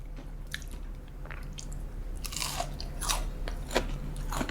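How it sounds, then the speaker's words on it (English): Crispy fried onion rings are bitten and chewed close up, with several loud crunches spaced a second or so apart over a soft background hum and no talking. "It is really crispy and crunchy, not greasy"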